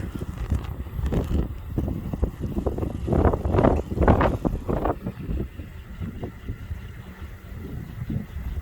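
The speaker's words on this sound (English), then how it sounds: "here we are in this blizzard" Gusty blizzard wind buffets the microphone in rough, swelling bursts, with a low roar rising and falling and no voices.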